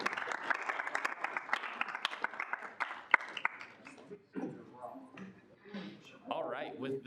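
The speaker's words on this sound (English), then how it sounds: "We can get one more round of applause." Student senate meeting room bursts into a short round of clapping from the attendees, crisp individual claps at close range that fade out after about four seconds, then a person starts talking.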